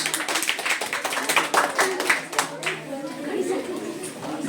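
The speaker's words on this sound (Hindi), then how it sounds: "जोरदार तालियां नेहा के लिए मुन्ना" Classroom clapping for a student named Neha, a cluster of sharp hand claps from a small group, close and uneven, fading after a few seconds as voices chatter underneath.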